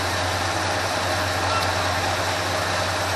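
A Ford F350 engine idles steadily at about 750 RPM after a carburetor rebuild, a constant low rumble with an even hum, close and unbroken throughout.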